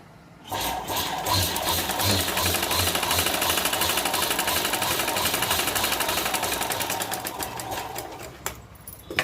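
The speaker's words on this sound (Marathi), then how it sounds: "आपण छोट्या पट्टीलाही अशीच टीप मारून घ्यायची" A sewing machine stitches a small strip for a homemade purse, running in a fast, steady mechanical rattle for several seconds. It starts abruptly and slows near the end, with no talk.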